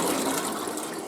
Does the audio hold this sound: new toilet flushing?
yes